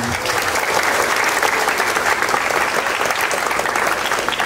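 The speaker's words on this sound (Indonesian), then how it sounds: "Dan tepuk tangan semuanya buat kalian." Students at a Monday school flag ceremony marking National Santri Day break into dense, loud applause, a continuous crowd of clapping hands sustained throughout.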